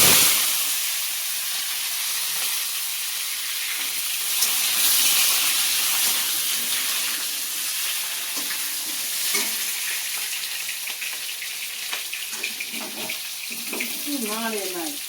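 Potato pieces fry with cumin seeds in hot oil, giving a steady close sizzle and hiss throughout, with a few light clinks of a utensil against the pan near the end.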